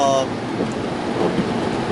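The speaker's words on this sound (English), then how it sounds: "in the country, when it rains like this" Steady rain falls in a rural countryside setting, a constant hiss of drops close by, with a faint voice briefly at the start.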